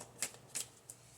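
A deck of playing cards is shuffled in three quick riffling bursts, close and fairly quiet, with short pauses between them.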